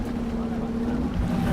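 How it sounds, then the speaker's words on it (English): A dive boat's engines rev at a shark dive site, a steady low droning hum with a strong sustained tone, continuous and fairly close, with some water and wind noise mixed in. "the captain revs the boat's engines"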